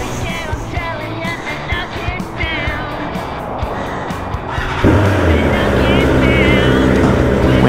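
A 2022 BMW S1000R motorcycle engine runs steadily under continuous talk, then grows noticeably louder and deeper in the last few seconds as the bike is ridden.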